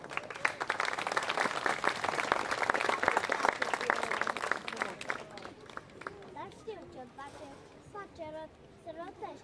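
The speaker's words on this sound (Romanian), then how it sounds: "Aplauze!" Audience applause at a sports week event ahead of a street workout demonstration, a dense wash of clapping for several seconds that thins out, followed by chatter and voices in the crowd.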